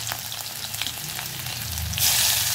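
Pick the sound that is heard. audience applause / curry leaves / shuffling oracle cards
curry leaves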